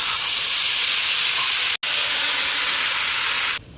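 Cashew and poppy seed paste sizzling in hot ghee in a pan: a loud, steady hiss that runs almost unbroken throughout.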